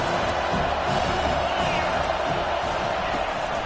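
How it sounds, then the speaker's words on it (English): Stadium crowd roaring and cheering continuously in College Football 25 during a third-down defensive stand, a dense, loud wall of sustained noise throughout with no clear breaks. "Decibels rising as the crowd gets behind this defense on third down."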